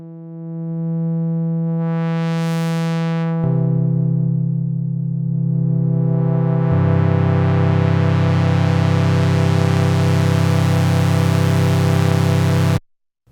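ASM Hydrasynth Deluxe synthesizer with its filter pushed into drive, giving loud, sustained buzzing tones that shift in steps and sweep in brightness before cutting off abruptly, with no voices.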